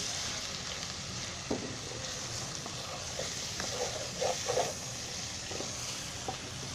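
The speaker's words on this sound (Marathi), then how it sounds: "जे तरतरतंय ना आवाज येतोय ना तो आवाज नाही आला पाहिजे" Cluster beans coated in masala fry in oil in a pan over low gas, a soft steady sizzle with a few brief crackles and stirring scrapes, faint and close.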